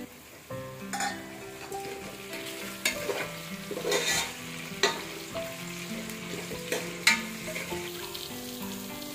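Soya chunks with spices frying and being stirred in a pan, a steady sizzle broken by repeated scraping strokes and light clinks of the utensil against the metal.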